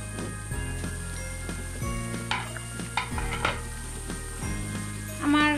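Whole chicken frying in oil in a covered pan for a Chittagong-style murg musallam, a soft close sizzle with occasional stirring scrapes and a few metal clinks of utensils, with a low hum underneath.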